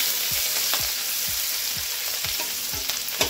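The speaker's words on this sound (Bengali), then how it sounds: "এবারে দিচ্ছে গোটা গরম মশলা আর একটু শুকনো লঙ্কা দিল, আর এখানে দিচ্ছে একটু কাঁচা লঙ্কা ঝালের জন্য" Whole garam masala with dried and green chillies spits and sizzles in hot oil, a steady bright hiss broken by regular scraping stirs, close and clear with no talk.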